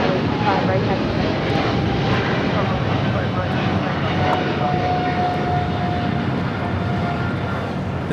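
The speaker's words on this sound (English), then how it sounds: "That was Japan Airlines Flight 15 taking off to Tokyo, Haneda on 777-300ER." A Japan Airlines Boeing 777-300ER departing LAX for Tokyo Haneda roars steadily through its takeoff roll and climb, a broad continuous engine rumble with a thin whine rising midway.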